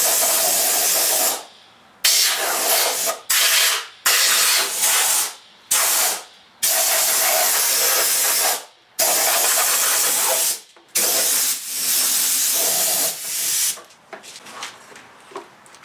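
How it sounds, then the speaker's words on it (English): Compressed air blasts debris from an old head gasket off the cylinder head and engine block of a 1999 Pontiac Grand Prix GTP in a series of loud, close, hissing bursts of varying length separated by brief silences, the last ones shorter and weaker. "blow all the debris from the old head gasket out, so you know it's not in the cylinders or the coolant passages."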